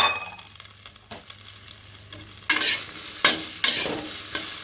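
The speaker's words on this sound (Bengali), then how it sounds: "একটু কাঁচামরিচ দিয়ে দিই, যে অল্প একটু কাঁচামরিচ, সজনে ডাঁটা, কাঁচা কলা আর একটা আলু দিয়ে দিলাম" Green chilies, drumstick, green banana and potato drop into hot oil in a pan, with a quiet stir giving way to a louder, steady sizzle and scraping stirs for the last two seconds; no one speaks.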